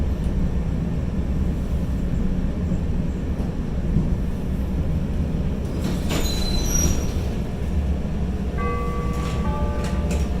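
Chicago L Orange Line elevated train running toward Midway, a loud steady rumble of wheels on track with metallic squeals and a brief high screech of wheels rising near the end, continuous throughout without talk.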